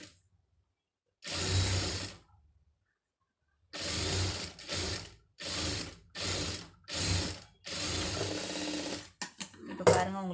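Sewing machine stitching a folded fabric strip in tailoring work, running in several short bursts of steady mechanical whirring separated by pauses, close and clear, with a brief clatter at the end.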